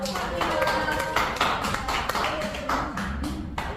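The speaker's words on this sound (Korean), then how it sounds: "먼저 제1부 사회로 수고를 해주신 이경민님께 박수 부탁드립니다" Applause from an audience at a Korean arts association poetry gathering, a moderate patter of clapping with distinct individual claps, fairly close and steady throughout.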